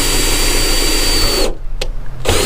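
Power drill fitted with a 3/16 inch bit, drilling during a hood strut install on a second-generation Toyota Tacoma; a loud, steady whine runs close up, breaks off briefly with a short blip, then starts again.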